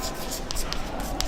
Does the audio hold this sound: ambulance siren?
no